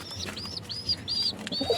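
A racer pigeon in a loft gives a quick series of about five short, bright chirping calls in close succession, near and fairly soft, with small rustling between them.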